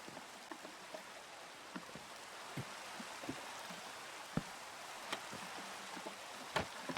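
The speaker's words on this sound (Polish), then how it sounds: "Widzisz, pada?" Steady, soft hiss of video game rain falling, with scattered sharper drops and taps over a constant wash of noise.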